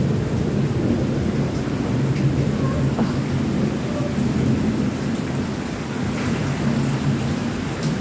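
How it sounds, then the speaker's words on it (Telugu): Heavy rain pours down steadily in Ongole during a thunderstorm, a loud, dense, unbroken wash of noise with a deep rumbling underneath, close and enveloping for the whole stretch. "వాన అయితే ఫుల్గా పడుతుంది. సౌండ్స్ అయితే వింటున్నారు అందరూ."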